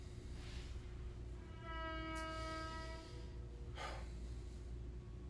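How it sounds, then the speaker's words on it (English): A train passes close by on nearby tracks, its horn sounding a sustained blast midway over a steady low rumble of rolling cars, fairly faint and without talk. "I'm very close to train tracks right now, and there's a train about to go by"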